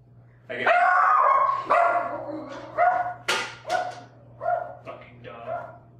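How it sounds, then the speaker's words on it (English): Dog barking near the microphone, several loud sharp barks and yips spaced irregularly over a few seconds, above a low steady hum, with a voice mixed in. "Fucking dog."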